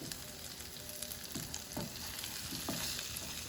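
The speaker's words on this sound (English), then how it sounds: "We give it a quick saute" Vegetables sizzle and fry on a hot tawa with tawa fry masala, a steady close crackle broken by a few soft stirring scrapes, with no talking.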